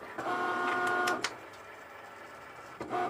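A Cricut Maker cutting faux leather vinyl on its mat: a close mechanical whir with tonal motor whines in short runs, a quiet pause, then another brief whirring pass, with no talking.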